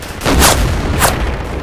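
Gunfire in a World War II shooter video game, two loud close booming shots about half a second apart with a short decaying tail.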